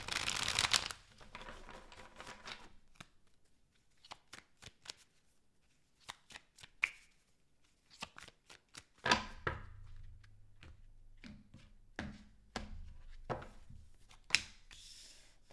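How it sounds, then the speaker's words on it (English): Tarot cards are shuffled by hand in a series of crisp, close riffles and slaps, scattered irregularly across the stretch with quiet gaps between them and a brief burst of noise at the start. "Last shuffle, please."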